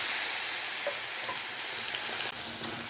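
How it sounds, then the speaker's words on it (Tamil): Ground Indian pennywort paste with turmeric is sautéed in sesame oil and sizzles loudly and steadily up close, with a faint stir midway. "இது இப்போது நல்லா கொஞ்சம் நேரம் வதக்கணும்"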